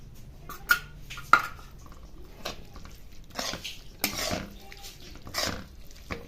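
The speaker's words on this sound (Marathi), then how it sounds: "हे जे आपल्याकडे मिश्रण होतं खव्याचं आणि साखरेचं हे मी चांगल्यापैकी फेटून घेते" Khoa and sugar mixture being whisked for carrot halwa, with scattered utensil clinks and scraping in a bowl, a few sharper taps standing out, fairly faint and alone.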